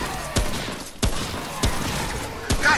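Explosion poppers in the video game Remnant burst four times at roughly even intervals, sharp loud cracks each followed by a short rumbling tail over constant background noise.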